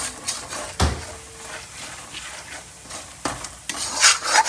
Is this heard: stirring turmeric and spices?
yes